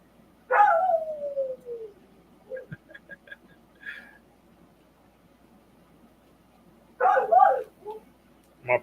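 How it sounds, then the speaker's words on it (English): A lonesome puppy whines in long, falling cries and gives short yips at close range, twice in separate bursts, with quiet gaps and faint talk between them. "My puppy dog's lonesome."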